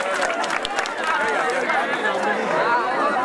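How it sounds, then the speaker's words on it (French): A crowd cheers and acclaims an American ambassador at an honorary ceremony in Karra, Boboye, Niger, making a loud, continuous wash of overlapping voices and chatter with a few sharp claps or shouts early on. "sous les acclamations de la foule"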